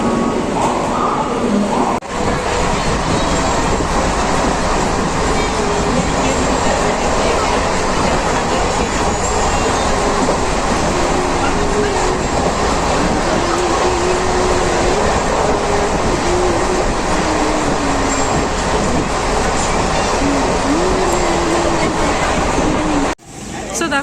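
A passenger train ride toward Bolpur station, a loud, continuous rumble of wheels and carriage noise with faint rhythmic clatter and squeals, filling the whole stretch before cutting off abruptly near the end.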